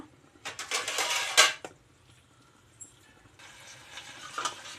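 A metal pot is set down on a kitchen stove before oil is heated for a fish tamarind curry, with several close clattering clanks followed by quieter scraping and rustling.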